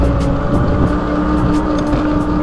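A Kuugo electric dirt bike riding through the city, giving a steady loud whining motor hum with tire and road noise, continuous and close.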